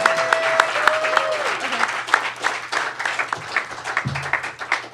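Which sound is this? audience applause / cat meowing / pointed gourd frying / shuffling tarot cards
audience applause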